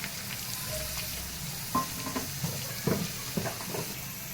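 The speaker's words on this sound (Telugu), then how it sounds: "ఒకసారి కలుపుకొని దీంట్లో మనం ఇప్పుడు గరం మసాలా ఇట్లా యాడ్ చేసుకుందాం" Curry sizzles in a pan as a spoonful of garam masala is stirred in, a steady close frying hiss with a few brief scraping clinks near the end and no talk.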